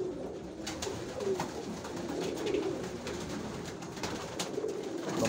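Pigeons coo softly and repeatedly over a steady background murmur, several birds close by.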